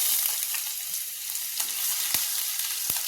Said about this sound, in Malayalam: വെളിച്ചെണ്ണ ഒന്ന് ചൂടായതിന് ശേഷം നമുക്ക് വെളുത്തുള്ളി ഇഞ്ചി ചേർത്ത് ഒന്ന് മൂപ്പിച്ചെടുക്കാം